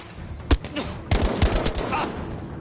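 Battlefield video game gunfire: a sharp single shot followed by a burst of rapid automatic fire and further shots, loud and close, with a voice briefly under it.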